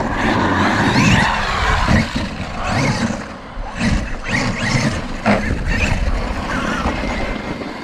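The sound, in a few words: Traxxas XRT RC truck driving in snow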